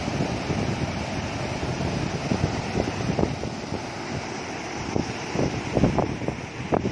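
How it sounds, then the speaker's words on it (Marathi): Water rushing steadily over the dam on the Warna river, a continuous broadband roar with some wind buffeting the microphone, fairly close and loud throughout. "आणि पाण्याचा आवाज बघा"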